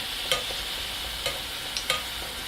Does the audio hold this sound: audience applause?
no